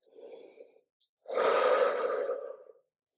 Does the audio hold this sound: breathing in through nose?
yes